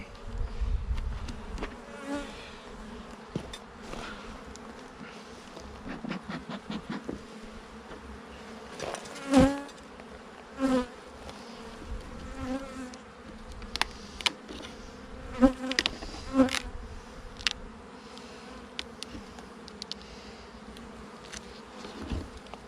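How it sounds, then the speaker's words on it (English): A steady, dense hum of many honeybees buzzing inside a hive box during a hive inspection, with occasional knocks and handling thumps throughout. "Box full of bees."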